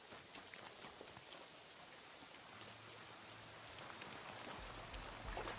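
Steady rain falls in the video game Kingdom Come: Deliverance 2, a soft, dense hiss of drops with a low rumble building toward the end, faint and without talk.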